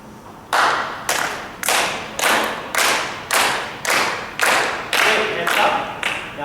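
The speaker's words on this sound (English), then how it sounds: "I'm going to go ahead and clap a beat" Hands clapping a steady beat, about ten sharp, loud claps evenly spaced roughly half a second apart, each ringing briefly in a room.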